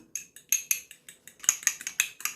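Egg yolks are whisked with a little vinegar in a bowl, producing a rapid, even series of bright metallic clinks and taps, close and fairly quiet, with no voices.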